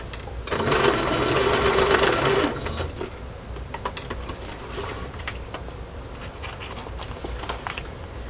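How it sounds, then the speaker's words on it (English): A sewing machine stitches through a paper pocket in a Christmas journal, a steady loud whir for about two seconds, then quieter handling clicks and rustles follow. "I'm going to sew this piece of this corner that wants to fold up"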